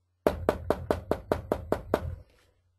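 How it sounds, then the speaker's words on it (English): Eight firm, evenly spaced knocks on a door, close and loud, each one a sharp thud with a short ring, before the knocking stops and leaves quiet. "You got to be knocking on doors."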